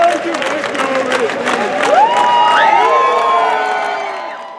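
A large crowd at a collegiate rugby championship cheers and whoops loudly after a song, with a dense, sustained roar and high shouts swelling through the middle and easing slightly at the end.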